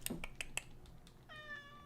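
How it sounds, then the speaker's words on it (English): A pet cat named Socks gives a short, soft meow near the end, after a few light clicks and taps, quiet and close in a room with no talk. "I know you're not meowing at me for food"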